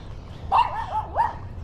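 A big, heavyset dog gives two short yelping barks up close, with a whining, wavering tone, outdoors with no talk.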